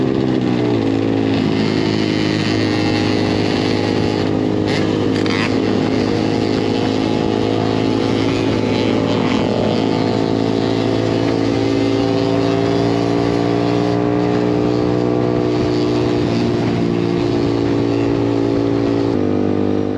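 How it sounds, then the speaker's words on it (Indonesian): A Yamaha XSR 155 motorcycle cruises at 80 to 100 km/h along a straight, smooth Pantura highway during the holiday homecoming travel, its engine droning steadily and loudly with wind rush throughout. "Bisa ngeliat ya gimana gue bawa motor dengan speed 80 sampai 100 ya"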